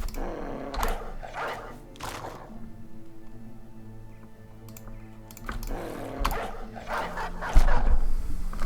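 Dogs barking in a video game while fighting goblins, repeated barks in bursts at the start and end with a quieter stretch between, fairly close, no talk.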